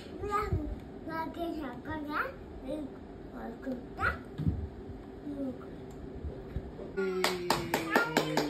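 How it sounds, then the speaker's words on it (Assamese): A small child claps hands at home in quick, close, rhythmic claps at the end, after a stretch of a young child's babbling and an adult's speech. "তালি দিয়া এনেকে ক।"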